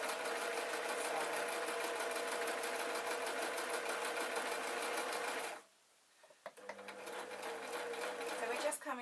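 Sewing machine stitching a seam in a denim skirt, a steady fast mechanical whir with a rapid needle rhythm, stopping briefly partway and then starting up again, with a voice talking quietly underneath.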